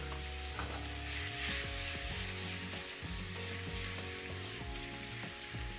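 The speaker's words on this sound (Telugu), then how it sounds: "ఇలా పన్నీర్ని అటు ఇటు తిప్పుతూ ఫ్రై చేసుకోవాలి" Paneer fries in butter and oil in a pan, a steady close sizzle broken by repeated scraping and knocking as the pieces are turned from side to side.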